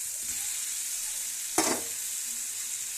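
Ridge gourd and tomato pieces fry in a pan with a soft, steady sizzle, and a sudden brief louder burst midway as something is stirred or added.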